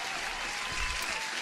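Brief burst of applause during a live day-trading stream, dense clapping at moderate level that holds steady over its short span.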